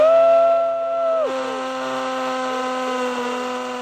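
Bosch 18-volt cordless hammer drill bores into old concrete, a steady close motor whine that dips in pitch early on, then holds a continuous droning tone.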